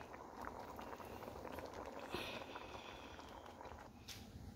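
Tilapia dish boiling in a covered pot, a steady dense bubbling and rolling simmer that holds at an even level throughout, with no voices.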